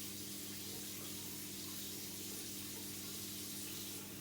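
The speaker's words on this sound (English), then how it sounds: "Making sure that we use plenty of warm water to rinse them off." Warm water running from a tap while hands are rinsed, a steady close hiss and splash that continues alone without a pause.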